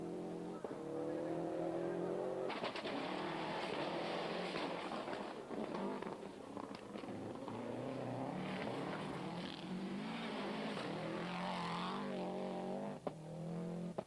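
A Silty team rally car driven by Grégoire de Mévius and Jean-Marc Fontaine at the 1999 SATA Rallye Açores, its engine revving loud and steady with rising and falling gear changes throughout.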